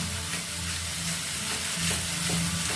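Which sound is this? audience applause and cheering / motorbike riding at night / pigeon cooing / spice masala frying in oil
spice masala frying in oil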